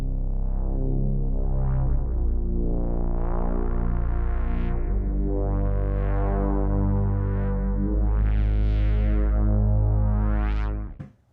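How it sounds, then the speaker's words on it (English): A synth patch built with mismodulations plays sustained, buzzy harmonic tones with swelling, sweeping overtones, loud and alone, then cuts off abruptly at the end. "that synth patch sounds like this"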